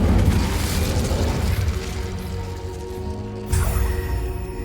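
In the Hogwarts Legacy video game, a Confringo spell bursts into a fiery explosion: a deep, rumbling boom with a sharp crack near the end, and no one talking.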